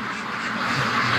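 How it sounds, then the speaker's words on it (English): Penned ducks quack loudly and continuously, a dense overlapping chorus of restless birds eager to be let out. "the ducks. I'm irritating the crap out of them here, standing here talking to you guys. They want out bad."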